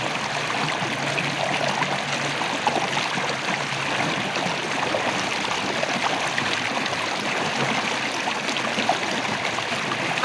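Running water from washing off charcoal serum skincare, a steady, fairly loud stream that flows continuously with a gurgling texture and no talking.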